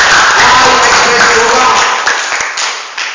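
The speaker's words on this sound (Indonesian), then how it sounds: "Berikan aplaus." Audience applause at a sales presentation, a dense, steady wash of clapping that swells at first and then thins out, with a few scattered claps trailing at the end.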